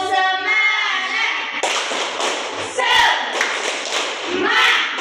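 A classroom of students performs a rhythmic spirit clap in unison, sharp grouped claps and taps following a spoken count, with children's voices chanting between the beats.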